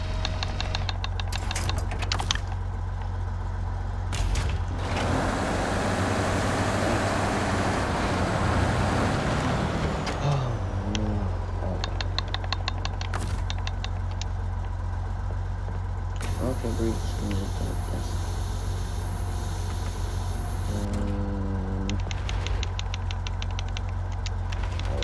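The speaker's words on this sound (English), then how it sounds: "Alright, just gonna begin the winch." A tow truck's winch drags a heavy wreck in a wrecker video game, a steady low mechanical rumble and grinding strain running continuously under engine drone, with scattered clunks and bursts of louder noise.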